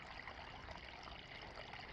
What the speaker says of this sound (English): when you come hiking early in the season like this, there's still a lot of running water from snow melt